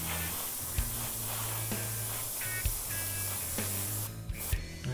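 An airbrush sprays dark paint onto a model vehicle, a steady close hiss with a low compressor hum underneath and a few brief breaks in the flow.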